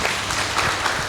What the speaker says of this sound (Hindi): ताली बजाओ, उन्होंने प्रश्न पूछा है।